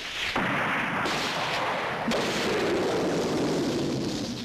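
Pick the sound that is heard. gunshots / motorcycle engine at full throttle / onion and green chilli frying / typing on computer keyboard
gunshots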